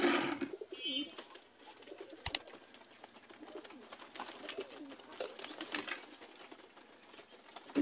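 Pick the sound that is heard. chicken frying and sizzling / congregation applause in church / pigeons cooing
pigeons cooing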